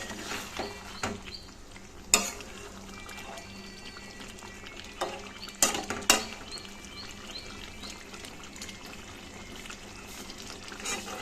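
Meat kosha is stirred and fried in a pan, giving a soft continuous sizzle broken by sharp metallic scrapes and clinks of a utensil against the pan, with a few louder knocks along the way.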